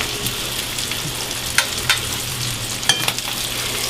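Sausage fries in a pan for savory sausage gravy, a steady close sizzle with a few sharp spatters and clicks of utensil stirring, no talking.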